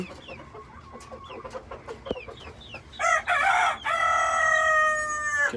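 Native country chicks and chickens cluck and peep close by, with chirps early on and then a loud extended crow-like call dominating the second half.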